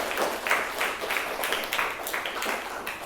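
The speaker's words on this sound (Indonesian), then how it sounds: "Oh ya, beri tepuk tangan dulu." A classroom of students claps in a lively, uneven round of applause, with bursts of hand claps and some voices mixed in.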